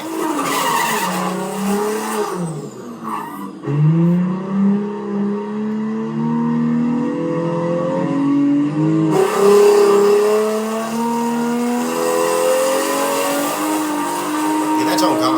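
A Nissan R34 Skyline launches in a drag race, its loud engine revving and rising in pitch through the gears, with tire squeal near the start and a voice talking over the roar.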